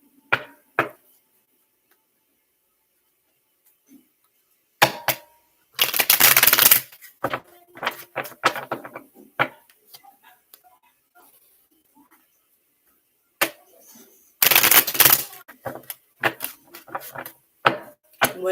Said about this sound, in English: Spirit, pull out some more cards.